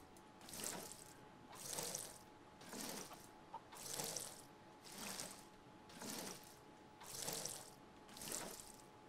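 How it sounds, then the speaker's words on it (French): Crops watered in the farming video game Fae Farm: a steady run of about eight evenly spaced splashing water pours, each a soft rushing burst, repeating in a regular rhythm with no talking. "mais d'abord on va aller arroser"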